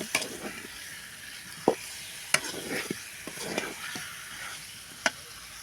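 Cut potatoes sizzle in a pan under a steady hiss while a utensil stirs them, giving several distinct scraping clacks at irregular intervals, close and fairly loud.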